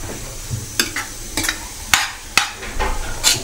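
Kada prasad roasting in ghee in a pan, with a low steady sizzle broken by repeated scraping and stirring strokes of a spoon against the metal, close and fairly loud.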